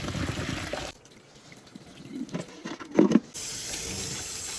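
Water from a pot of boiling beef bones is poured off into a sink while making beef pho, a short splashing gush rising to a brief louder burst between quieter stretches of kitchen hum.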